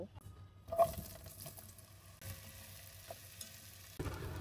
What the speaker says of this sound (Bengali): এবার মাশরুমে মরিচ গুঁড়া, সামান্য আমার বানানো মশলা, রসুন আদা বাটা দিয়ে মাখিয়ে সামান্য তেলে ভেজে নিব।